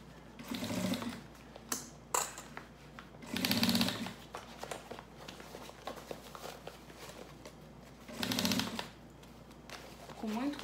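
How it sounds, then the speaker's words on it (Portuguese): A sewing machine runs in short bursts, stitching a seam around the edge of a fabric piece and easing through curves, with several brief whirring runs between pauses and a voice talking throughout. "E agora eu só tô fazendo o fechamento dessa peça, passando uma costura em toda a volta"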